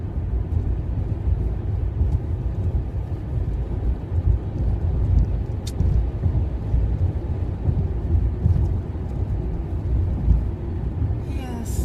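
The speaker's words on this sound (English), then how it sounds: "I've got rain that started as I left Kitchener" Rain drumming on a car driving on a dreary day after leaving a Kitchener parking lot, a loud steady wash of noise mixed with road rumble that continues without a break.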